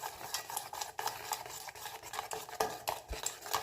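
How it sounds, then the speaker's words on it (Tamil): Eggs beaten with a whisk in a bowl for rava paniyaram batter, giving a fast, close run of rhythmic clicking and scraping strokes with no pauses. "முட்டையை சேர்த்து நல்லா அடிச்சுக்கிறோம்."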